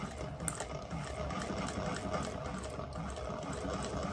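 A sewing machine stitches fabric along a gentle curve, running steadily and continuously at close range with a fast mechanical whir throughout.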